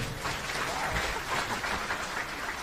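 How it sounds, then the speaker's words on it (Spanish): A church audience applauds a man named as a debate referee during a Catholic priest's teaching session, a steady dense wash of clapping throughout, moderately loud and without talk. "Un aplauso para él"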